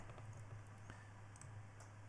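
Typing on a computer keyboard during a live Python Flask API coding session, a faint, quick patter of key clicks in a quiet room with a steady low hum underneath.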